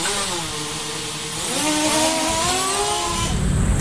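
A Yamaha T-Max 530 maxi scooter with a 500cc engine drones and revs up loudly on the road, its pitch climbing and wavering as it accelerates, with a rush of wind noise at the end.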